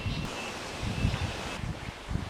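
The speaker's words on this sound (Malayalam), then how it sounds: "എൻ്റെ അമ്മ എന്തൊരു കാറ്റാത്." Strong gusty wind outdoors on a day of heavy rain, a steady rushing roar with rustling and buffeting against the microphone, swelling and easing in waves and never stopping.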